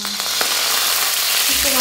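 Lao spicy coconut sauce bubbles and sizzles in a pot while being stirred, a steady hissing fry with a few soft scrapes, close and fairly loud, with no speech.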